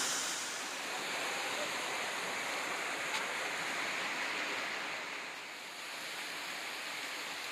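River water pours steadily over a dam on the Dikhrut river, a constant broad rushing roar at moderate level with no voices.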